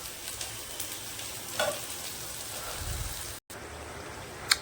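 Food frying in a pan that is stirred and then covered gives a close, crackling sizzle with scraping stirs, a brief cut of silence near the end, then a sharp clink.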